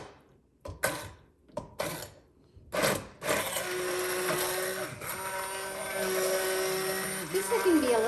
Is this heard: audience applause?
no